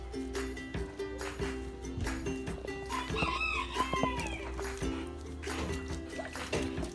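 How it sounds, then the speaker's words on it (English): Backyard chickens clucking, with a rooster crowing once in the middle, heard close on a cold morning over a low steady hum. "Okay, and some chickens."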